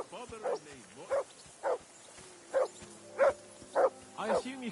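A dog in Kingdom Come Deliverance 2 barks seven times at uneven intervals, clear and moderately close, with faint background tones between barks.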